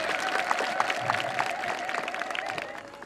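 Congregation applauding in church, a steady run of many hands clapping at moderate loudness, with a sustained tone beneath it and a murmur of voices.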